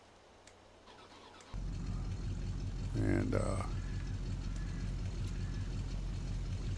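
A truck engine cranks and fires, then settles into a loud, steady idle close by, with a brief rise in revs as it catches. A voice is heard briefly.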